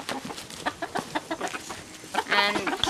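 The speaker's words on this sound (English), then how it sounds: "So these are chickens" About 20 chickens cluck repeatedly in short, uneven bursts close by, with a brief louder squawk near the end and faint background noise.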